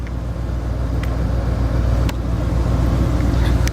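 A Roadtrek Dodge Ram van engine idles steadily after its computer replacement repair, a constant low rumble with a few faint clicks and no talk.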